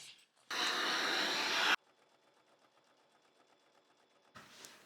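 A sewing machine topstitches along a zip pouch in a single loud, close burst of rapid stitching lasting just over a second. Quiet fabric handling follows.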